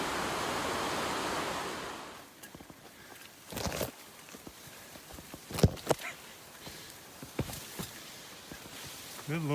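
Rushing water of Vista Creek, a mountain creek on a Pacific Crest Trail section hike, loud and broadband for the first two seconds, then quieter beneath scattered footsteps and sharp knocks.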